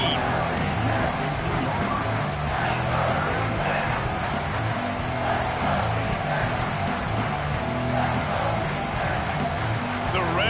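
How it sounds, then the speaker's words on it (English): A Raiders home crowd in an American football video game roars on third down, a dense, steady wall of crowd noise that holds evenly throughout at moderate loudness. "Raider crowd rising to the occasion to help its defense on third down."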